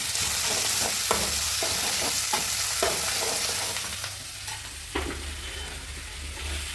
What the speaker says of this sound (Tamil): பச்சை மிளகா 4 பச்சை மிளகா, கொஞ்சம் கருவேப்பிலை, கொஞ்சம் கொத்தமல்லி, இதெல்லாம் நல்லா எண்ணெயிலே வதங்கட்டும்.